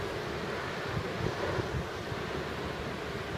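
Steady wind buffeting the microphone over a constant wash of surf on the beach at Playa Sulina on the Black Sea, broad and unbroken with no voices.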